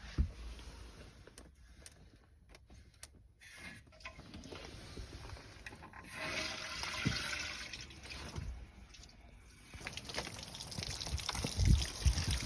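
Water gushes and trickles steadily from the opened drain valves of a camper's hot water heater onto the ground outdoors, a continuous splashing rush that swells louder toward the end.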